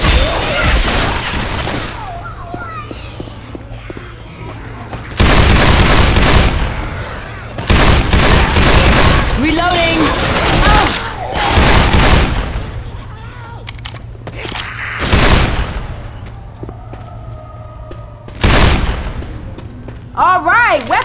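Gunfire in Left 4 Dead 2 comes as repeated loud, close volleys and sustained bursts with gaps between them, over a low drone, with voices talking throughout.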